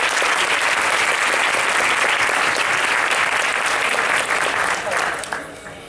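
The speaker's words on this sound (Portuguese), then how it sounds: "Palmas pra Isa, gente." Dense, sustained applause from a large crowd for a person named Isa, loud and steady throughout before thinning slightly near the end.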